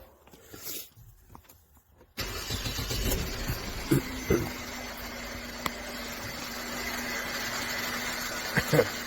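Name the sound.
Mercedes-Benz C250 engine starting and running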